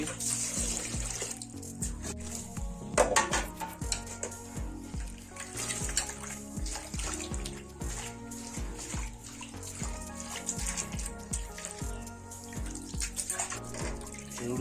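Saag greens being washed in a bucket of water, continuous splashing and sloshing with dripping, fairly close, over a steady background layer.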